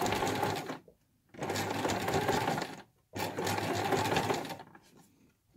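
A sewing machine runs in two long bursts, stitching fabric for a quilted scissor case; a steady whirring motor with a brief pause between runs and another stop at the end.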